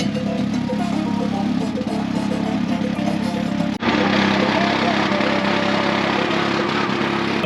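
A tuktuk engine labours in first gear up a high-altitude mountain pass in Peru, droning loudly and steadily throughout with a brief dip partway through, while people talk inside.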